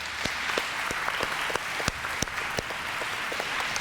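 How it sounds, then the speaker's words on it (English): Applause from a junior school closing-ceremony audience for the grade 4 and 5 strings orchestra, a dense wash of clapping with distinct individual claps popping out, steady and fairly close. "Let's give them another round of applause."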